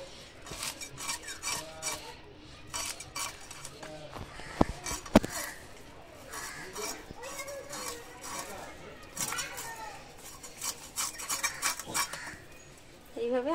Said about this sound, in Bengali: এইভাবে আমি সব একটা একটা করে এই যে আঁশগুলো ছাড়িয়ে নেব